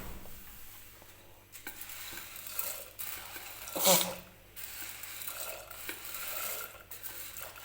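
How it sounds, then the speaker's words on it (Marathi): Chana dal poured into a pressure cooker of hot water in a home kitchen, with a soft hiss and scattered clinks, a brief sharp clatter midway, then steady splashing and rustling at close range. "तर आता मी हरभऱ्याची डाळ कुकरमध्ये टाकून घेते"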